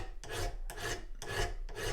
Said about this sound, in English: keep working with this file, so I can take all the little tiny dents and scratches out of it